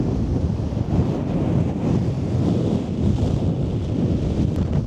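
A strong, sustained gust of wind roars across the exposed summit of Glastonbury Tor, buffeting the microphone with loud, low rumbling that hardly lets up, and no voices are heard.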